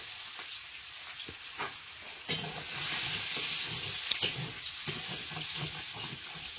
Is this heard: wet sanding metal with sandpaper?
no